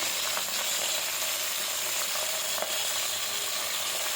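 Garlic cloves and washed gongura leaves frying in hot oil in a pot, a steady bright sizzle with faint scraping ticks, close and continuous with no talk.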